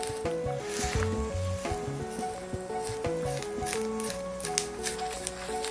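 Pollock roe fries in butter in a pan, giving a soft, continuous sizzle beneath louder melodic background music.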